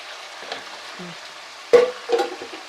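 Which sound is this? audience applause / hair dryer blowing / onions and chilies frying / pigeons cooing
onions and chilies frying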